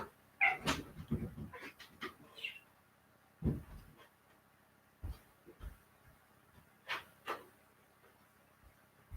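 A dog whimpers and pants indoors in short, uneven bursts of soft whines and breathy sounds scattered across several seconds, with no one talking.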